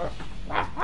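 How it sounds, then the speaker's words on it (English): A dog gives two or three short barks at fairly close range, rising out of steady background noise in under a second. "Quiet, dog."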